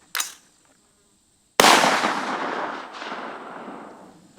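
A cheap full metal jacket round fired outdoors at a target: a faint click, a pause, then one loud sharp report with a long fading rumble and a lingering echo.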